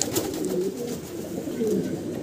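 Many pigeons coo together on a pigeon farm, a steady close chorus of low throaty coos running throughout with no talk.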